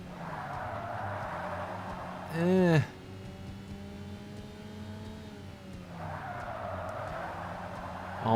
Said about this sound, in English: Almost locking in my brakes because I'm taking these turns way too fast.